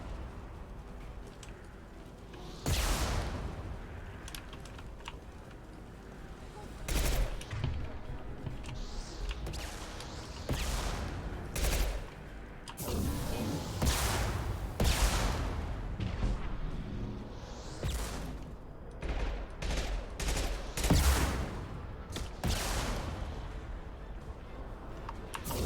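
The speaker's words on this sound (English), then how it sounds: "Firing an impact gun." Impact gun fire in Mass Effect 2, a series of heavy booming blasts with deep low rumble recurring irregularly over about 25 seconds, mixed with game sound effects and occasional voices.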